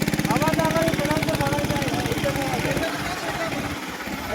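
A tractor engine runs with a steady, close chugging throb that fades somewhat partway through, under a noisy outdoor mix with people talking.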